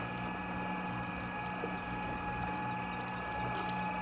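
A Temo 450 electric motor mounted on a jet ski runs at full throttle, giving a steady, close droning whir with faint water wash underneath and no voices.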